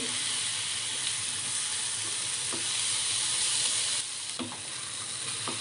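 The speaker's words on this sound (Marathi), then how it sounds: "आता हे सगळं आपल्याला तुपावर छान असं परतून घ्यायचं आहे" Ingredients for a traditional Konkan goga sautéing in ghee in a pan, giving a steady, close, dense sizzle that holds evenly throughout, with a few soft stirring scrapes and a slight drop in level near the end.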